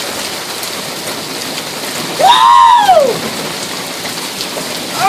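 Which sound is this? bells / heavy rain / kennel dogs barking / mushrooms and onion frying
heavy rain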